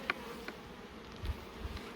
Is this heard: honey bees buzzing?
yes